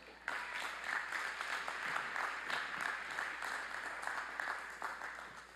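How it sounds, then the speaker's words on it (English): A big round of applause from a university commencement crowd, a dense, even patter of many hands clapping, steady and somewhat distant, lasting several seconds. "Let's give Dr. Mahoney a big round of applause"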